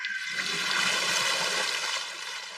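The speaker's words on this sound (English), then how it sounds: "Water, come forth." Water conjured by a magic spell in an anime, a loud continuous gushing rush like a flush, steady for a couple of seconds and easing slightly at the end.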